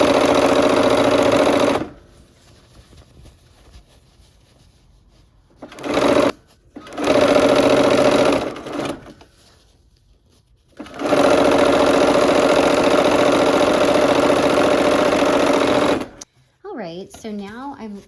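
A sewing machine stitches quilt strip sets together in loud, whirring bursts with pauses between runs, close by, ending with a brief voice.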